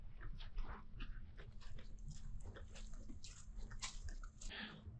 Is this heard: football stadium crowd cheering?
no